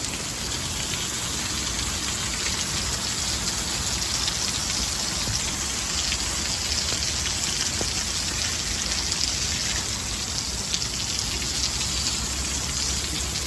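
Super heavy rain pours down during a thunderstorm in Dayton in August, a dense, constant hiss of downpour drumming on surfaces, close and unbroken with no voices.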